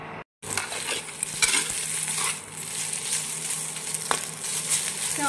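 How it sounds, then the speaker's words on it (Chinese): Lean pork stir-fried in a wok with a little oil: a loud, steady sizzle with scraping stirs and occasional metallic clinks of the spatula, no voices. "现在锅里留点底油，把我们备好的瘦肉放下去，炒散炒香一下"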